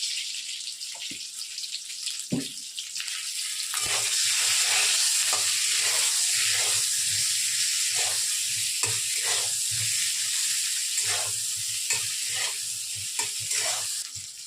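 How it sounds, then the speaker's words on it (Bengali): Pieces of pointed gourd (potol) fry in hot oil in a pan with a little turmeric, giving a steady loud sizzle broken by repeated scraping stirs, with no talk. "যতক্ষণ পটলটা ভাজা হচ্ছে"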